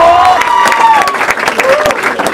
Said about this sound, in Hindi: आप लोगों को क्या, ठोकिए मेरे लिए ताली प्लीज